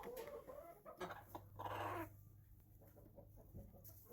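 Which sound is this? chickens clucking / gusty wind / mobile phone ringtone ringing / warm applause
chickens clucking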